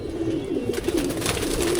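Pigeons coo in a brief, steady low warble, close and moderately loud over faint background noise.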